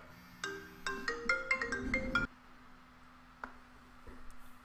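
A Sims 4 in-game phone rings with a quick run of clear electronic melody notes for about two seconds, then cuts off into near silence broken by a couple of faint ticks.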